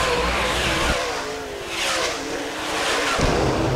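Modified race cars roar past at Fairmont Raceway in a heat race, engines loud and close, one car swelling and sweeping by with a fading drone before more engines rush in.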